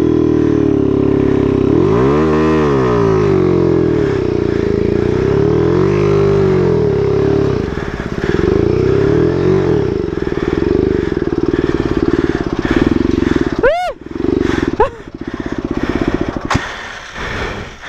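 A motorcycle engine drones loudly up close, its pitch swelling and falling as it is revved repeatedly, with a few sharp high throttle bursts near the end.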